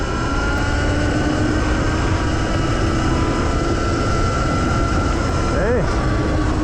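Sur Ron X electric dirt bike from 2022 accelerating at full throttle uphill under a heavy rider, a steady loud whine with constant wind rush throughout, rising slightly in pitch near the end.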